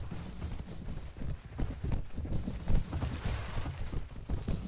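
Horse hooves clip-clop in the Mount & Blade Floris video game, a quiet, rapid run of hoofbeats mixed with low battlefield clatter and rumble.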